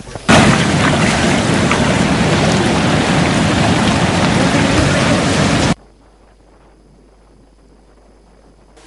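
Heavy monsoon downpour during flooding in Batticaloa district, Sri Lanka: a loud, dense, steady roar of rain for about five seconds, then an abrupt cut to near quiet.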